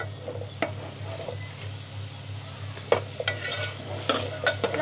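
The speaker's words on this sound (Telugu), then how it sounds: "ఉల్లిగడ్డలు వేసుకోవాలి. వేసుకున్నాక వీటిని ఒకసారి కలుపుతారు." Onions being stirred in a pan in a village kitchen, a soft steady sizzle with a low hum beneath and a few sharp scrapes and clacks of the spoon, scattered and clustered toward the end.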